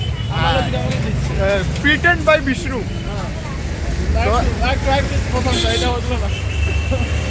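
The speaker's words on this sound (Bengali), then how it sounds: "এখানে একটু ট্রাফিক বেশি আছে, নয়েজ আসতে পারে" Steady street traffic rumbles outside the Howrah Rail Museum near Kolkata, a continuous roar of passing vehicles beneath people talking close by.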